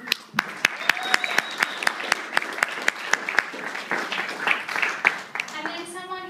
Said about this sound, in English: do you want to give him a clap?